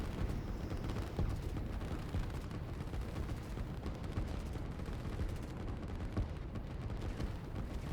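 Heavy artillery fire in the war strategy game Line War rumbles as continuous overlapping booms and blasts, a dense, low barrage at moderate distance with no talking.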